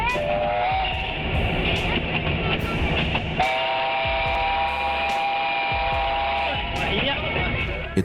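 Oncoming train sounding its horn in long sustained blasts, loud and close, broken by a short pause, over rumbling wheels on the track.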